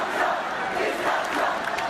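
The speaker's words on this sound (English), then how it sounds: "The crowd of thousands erupted after the announcement" A crowd of thousands at a political rally in Chicago erupting after an announcement: a dense, continuous roar of shouting and yelling voices, loud and sustained, with no single voice standing out.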